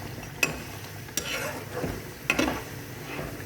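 Onions and garlic cooking in a pan for a coconut-milk chicken dish, with a soft continuous sizzle and a few sharp clinks of a utensil stirring against the pan.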